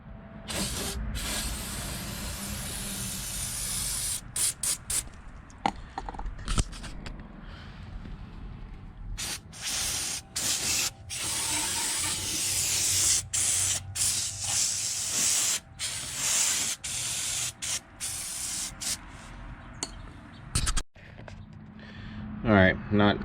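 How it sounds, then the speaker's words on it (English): Engine cleaner sprays onto a motorcycle engine in repeated bursts of sharp, close hissing, separated by short pauses over about twenty seconds. "just some engine cleaner in there"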